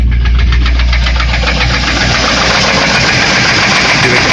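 A Land Rover Discovery engine with a knocking fault, running up close: a loud, steady idle with a regular rapid ticking knock, set against a deep rumble and broad hiss, and no voices.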